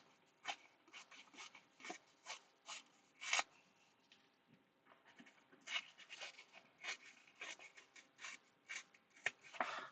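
Designer series paper for cardmaking is cut with scissors in quick, rhythmic snips, a dozen or more crisp cuts close by with short pauses between.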